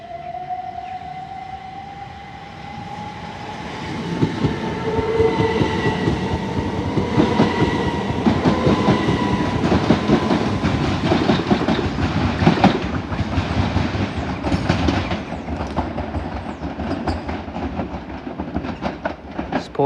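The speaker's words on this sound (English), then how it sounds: "once she goes out, should have the freight train" A freight train moves through Tonbridge station, starting with a long, drawn-out horn-like squeal before loud rhythmic clattering and rumbling of wagons builds and continues steadily close by.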